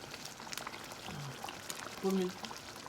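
Homemade frozen tomato sauce goes into a pot of boiled potatoes and meat, with a brief pour and a soft bubbling simmer under people talking.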